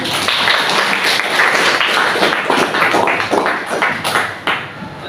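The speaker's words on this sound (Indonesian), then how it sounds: "Terima kasih, tepuk tangan untuk Anggun." Classroom applause from students, a dense spread of quick hand claps sustained at steady loudness throughout, close and lively with no talk over it.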